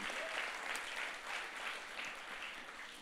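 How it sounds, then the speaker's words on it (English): Church congregation applauding one another during a welcome, a steady wash of many hands clapping that fills the room evenly from start to finish with no pauses. "will you clap for somebody sitting next to you?"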